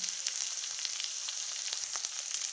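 Green chillies sizzle and fry in a pan at a steady, soft crackle with small pops, heard alone without talk.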